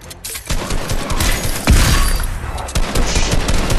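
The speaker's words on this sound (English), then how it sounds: "Marauder started shooting at me, it scared me." Rapid bursts of gunfire from an enemy Marauder in an Apex Legends arena match, a dense and loud volley of close shots with heavy thumps mixed in.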